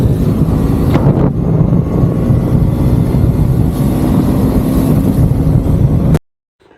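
A motorbike travels at high speed over the new Shamshabad flyover, with a loud, steady engine roar mixed with heavy wind rush at the microphone before the sound cuts off abruptly.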